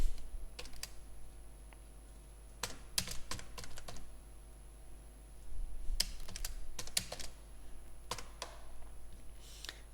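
Program code typed on a computer keyboard, with bursts of rapid key clicks separated by short pauses, fairly close and moderately loud over a steady low hum.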